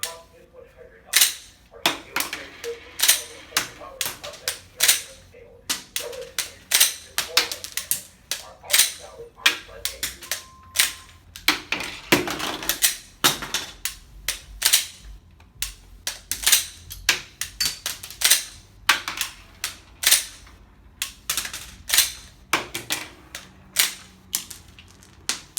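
Pistol malfunction drills with tapping the magazine, racking the slide and repeated magazine changes: sharp metallic clacks and snaps in rapid irregular bursts throughout, close and loud, with faint voices in the background.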